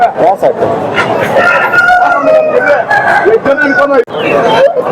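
Roosters crow loudly and repeatedly over a busy, noisy crowd of chattering voices at a weekly poultry market in Bangarapet.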